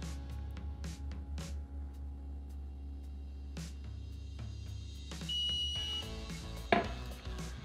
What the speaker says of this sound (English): All right, so you can hear the alarm, and this is closing.